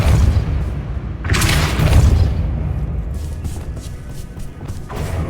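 A Depulso force spell strikes in Hogwarts Legacy, a heavy booming impact with a broad crash that bursts out and rumbles down over a few seconds, followed by lighter thumps and clatter near the end.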